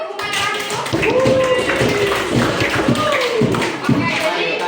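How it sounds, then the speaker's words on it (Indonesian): Students applaud in a classroom, a brief burst of loose, close clapping and taps mixed with voices talking over it. "Beri tepuk tangan untuk Humairah itu."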